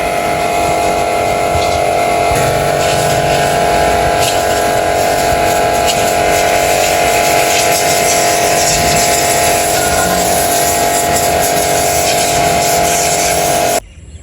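A farm tractor engine runs steadily and loud for about fourteen seconds during rice paddy preparation, a constant droning hum with harmonic tones, stopping abruptly at the end.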